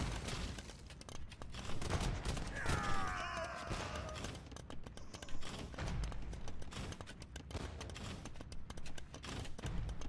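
Hand cannon units fire in an Age of Empires match, a dense rattle of rapid crackling gunfire volleys mixed with other battle effects, steady and fairly loud throughout.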